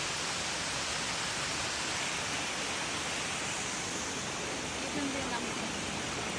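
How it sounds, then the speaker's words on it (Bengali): A waterfall roars in a constant, broad rush of falling water, loud and unbroken from start to finish. "জলটা পড়ছে উপর থেকে"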